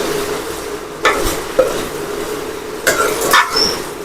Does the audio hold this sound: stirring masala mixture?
yes